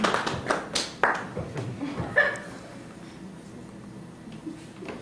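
Scattered audience clapping at a live comedy show as people vote for "painting"; a handful of sharp claps and some chuckles come early, then fade into quiet room noise.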